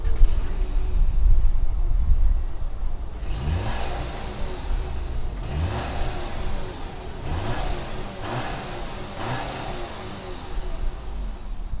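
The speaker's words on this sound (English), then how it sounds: "let's fire up this Beetle Dune and see what it sounds like" A 2016 VW Beetle Dune with an APR Stage 3 tune and carbon fiber airbox fires up and gets several quick throttle blips, each rev rising and falling sharply over a steady engine rumble, close and loud with no talking.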